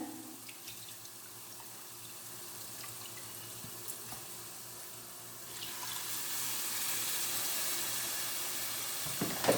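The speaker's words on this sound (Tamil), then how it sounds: "இப்போ இந்த மிக்சி கழுவி ஊற்றிடலாம் தண்ணியை." Rinse water from a mixer jar poured into a simmering mutton kheema urundai (meatball) gravy, a steady running-water splash that grows louder in the second half, heard alone without talk.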